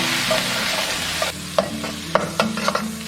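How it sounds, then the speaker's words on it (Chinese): Aromatics frying in a little hot oil in a wok, a steady close sizzle with the clink and scrape of a spatula stirring several times, fast and uneven strokes, no voices. "锅重新洗干净，倒入少许油，然后先下入这些料头爆香"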